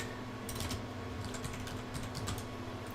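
Rapid clicking of typing on a computer keyboard, close up and steady throughout, with bursts of keystrokes over a low background hum; no one speaks.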